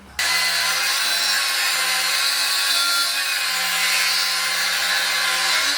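A metal spacer washer being cut down with a power tool, a loud continuous high whine of cutting that starts abruptly and holds steady throughout, close and alone.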